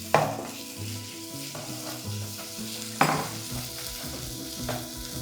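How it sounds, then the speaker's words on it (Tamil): Ginger garlic paste and onions are sautéed in a pan for Chettinad mutton chukka, a steady close sizzle broken by two scraping stirs of a spoon against the pan, with no talking. "இஞ்சி பூண்டு போட்டு அந்த பச்சை வாசம் போகிற வரைக்கும் நம்ம வதக்கிடலாம்"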